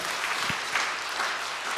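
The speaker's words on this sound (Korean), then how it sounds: "우리 하나님께 영광의 박수 올려드리겠습니다" Church congregation applauding together, a dense, steady wash of many hands clapping at fairly close range, sustained evenly through the short moment with no voices on top.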